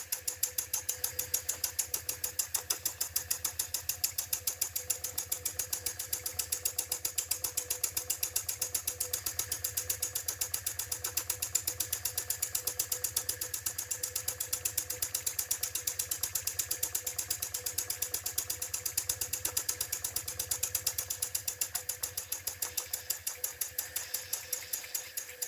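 An IND-X electric toy steam engine runs steadily, with rapid even mechanical chuffing and clicking from its moving parts and a constant faint hiss of leaking steam, moderately loud and close, with no voices.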